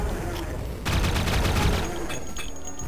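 Enemy grenades explode in the Duke Nukem 3D game, a loud crackling blast erupting partway through amid game noise, with a voice speaking over it.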